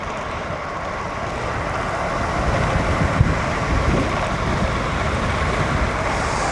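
Steady, loud wind rushing across the microphone of a cyclist riding with a tailwind, a constant buffeting roar with no talking.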